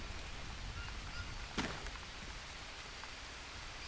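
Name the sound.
rain falling in Green Hell video game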